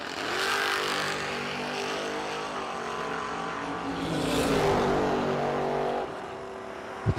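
Ford Mustang and BMW SUV drag racing at the Bernie Mann Memorial No Delay Nationals, engines roaring loud and close in a sustained, rising blast that swells near the middle and then cuts off.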